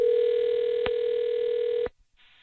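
Outgoing telephone call ringing tone, a steady single electronic tone held for about two seconds with a faint click partway through, then cut off abruptly into near silence.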